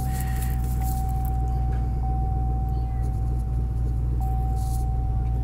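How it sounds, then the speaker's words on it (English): A car engine idles steadily while warming up before an oil change, a constant low hum with a faint high whine, close to the microphone and unbroken throughout. "First thing that I like to do is warm up my car."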